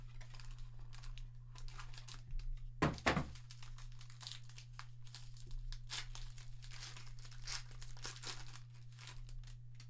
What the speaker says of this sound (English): Here we go. Contenders Optic 6 cards.